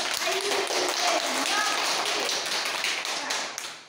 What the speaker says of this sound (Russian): Ну-ка все похлопаем